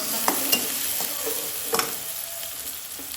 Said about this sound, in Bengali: এখন পেঁয়াজের সাথে একটু ভাজা ভাজা করে নিচ্ছি